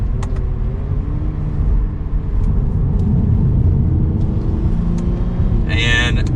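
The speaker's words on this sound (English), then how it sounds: "As we come up to a sharp right, can downshift." A 2022 Lexus IS 350 F Sport in sport mode drives toward a sharp right turn, its engine a steady, close, low rumble with cabin road noise throughout and a brief higher tone near the end.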